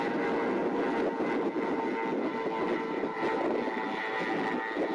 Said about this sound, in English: During one flight, soon after the banked pass, the port outer engine stopped